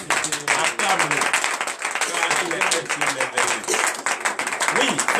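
A church congregation at a morning prayer service applauds and acclaims God, with dense, continuous clapping and raised voices over about five seconds, fairly close and loud, with speech mixed in throughout.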